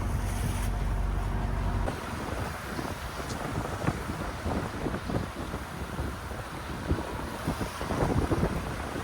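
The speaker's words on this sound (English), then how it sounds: "We are now wing on wing, sailing toward the Golden Gate." A sailboat running wing on wing toward the Golden Gate, with steady wind buffeting the microphone and water rushing and splashing along the hull throughout, close and fairly loud.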